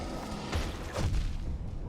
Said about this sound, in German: Ja, jetzt sehe ich eben nichts mehr durch die ganzen Explosionen.